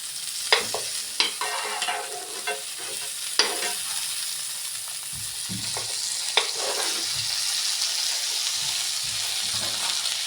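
Pav bread toasting in butter in a hot pan, sizzling and frying steadily with a few sharp clinks and scrapes as the pieces are stirred and flipped; close and moderately loud, no talk.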